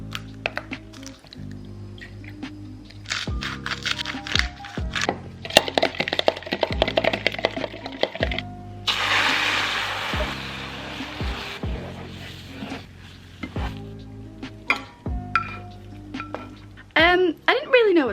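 Scrambled eggs being made in a pan: eggs cracking, a utensil scraping and clinking against the pan, and a stretch of sizzling in the middle, with a person talking between the kitchen noises.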